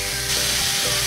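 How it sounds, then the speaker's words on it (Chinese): Pre-marinated Korean spicy pork belly stir-fries in a hot pan, giving a steady, loud sizzle with a brief stirring scrape and no voices. "我买的这个是半成品的，只需要上锅炒一下就可以了"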